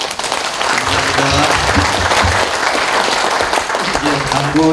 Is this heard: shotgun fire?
no